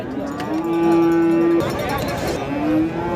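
A native breed cow at a cattle market in Kalitala, Nilphamari, gives one long, loud, close moo, then starts another near the end, over a background of crowd babble and people talking.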